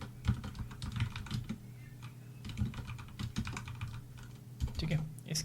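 Quick bursts of Python for-loop code typed on a computer keyboard, with clustered clicks and short pauses between runs of keystrokes, close and moderately loud, with a faint steady hum underneath.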